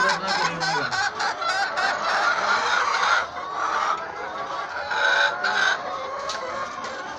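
Hens clucking and squawking continuously at close range, with rooster-like calls and several overlapping birds, loud throughout.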